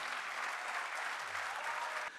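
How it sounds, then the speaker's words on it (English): Steady audience applause at a keynote event greeting a speaker, a broad continuous wash of clapping from a large crowd that drops off abruptly just before the end. "Give a huge round of applause for Mr."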